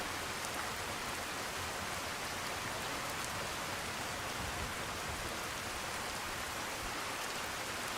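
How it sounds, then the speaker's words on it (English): Steady, heavy rain pours down in the video game Skyrim, falling near the town of Oakwood as a continuous dense hiss that fills the whole span without pause, with no voices. "And it's pouring down rain here."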